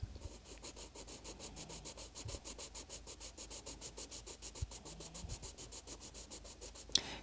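Coloured pencil pressed hard on paper while swatching a yellow, giving a steady rhythmic scratchy rubbing stroke after stroke, close and fairly quiet, with a small knock near the end.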